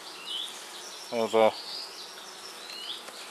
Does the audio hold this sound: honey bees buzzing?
yes